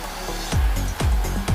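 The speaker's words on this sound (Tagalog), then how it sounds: "Oh, masarap mag-blower, di ba?" A pet blower dries a poodle after its bath, with a loud, steady airflow roar broken by repeated sweeping, falling tones that come and go close by.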